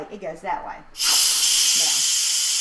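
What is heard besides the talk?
Instant Pot quick pressure release steam venting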